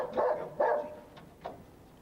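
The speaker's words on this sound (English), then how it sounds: "A training course for Essex Police sniffer dogs." A police sniffer dog at a training course barks twice in quick succession, fairly close, followed by two softer, shorter barks.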